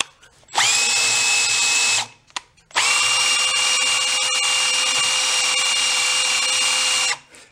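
A power tool spins at high RPM, cutting the top edge of an engine cylinder on a barn-find homemade tractor: a loud, steady whine in two long bursts with a short pause between, close up and with no talk.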